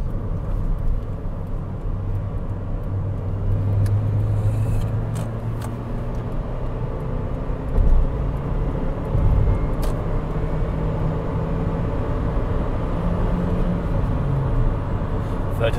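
Toyota Yaris 1.33 Dual VVTi TR hatchback cruising on a test drive: steady engine drone and road rumble inside the cabin, with faint gear-change shifts around 70 mph.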